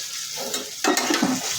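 Fried fish, crisp-fried with turmeric and chili, is stirred in a hot pan for a dry sour curry. Sizzling rises sharply partway through as the pieces go in, with scraping stirs, close and fairly loud.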